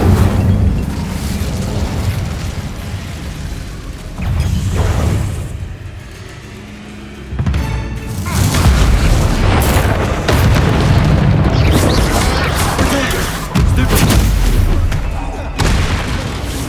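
Repeated booming fire-spell blasts cast with Incendio in the video game Hogwarts Legacy, loud bursts with rumbling low end that recur across the stretch, briefly dropping off midway before returning heavy and dense.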